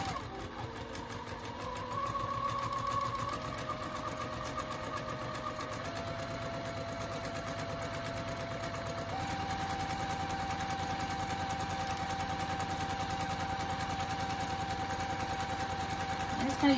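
A sewing machine stitches a fabric reusable bowl cover with a continuous, even motor whir and rapid needle chatter, shifting pitch slightly as the foot pedal speed changes.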